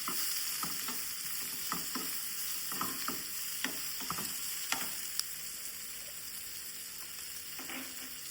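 Jackfruit pieces fry with onion in a pan, a steady sizzle carrying scattered scraping clicks from a spoon stirring them at irregular intervals, no voices present.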